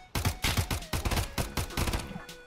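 Silenced Mosin rifle shots in Escape from Tarkov sound as a rapid volley of muffled, sharp thuds, roughly a dozen close impacts in quick irregular succession.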